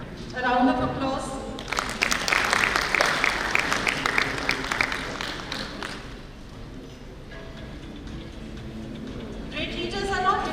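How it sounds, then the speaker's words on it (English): Audience at a national convention session clapping as a guest is presented with a welcome sapling: a loud burst of many hands that swells, then thins and fades, with a speaking voice at the start and again at the end. "A round of applause."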